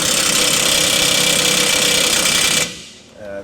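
An impact gun hammers a bearing race onto the pinion of a 2005 Ford F-150 9.75-inch rear axle: a loud, close, continuous buzzing rattle for over two seconds, then it cuts off abruptly, leaving a faint trailing noise.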